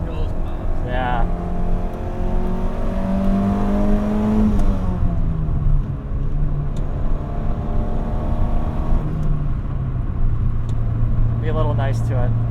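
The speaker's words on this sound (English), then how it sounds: "engine's really responsive. I mean, this thing loves to rev." A 1990 Nissan Pulsar GTIR engine revs hard while driven quickly, its steady drone climbing sharply in pitch then dropping back and settling, loud and close from inside the car, with a person talking over it.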